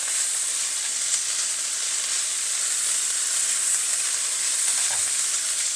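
A continuous, even sizzle of broccoli stir-frying in a pan over medium heat, close and fairly loud, with no voices.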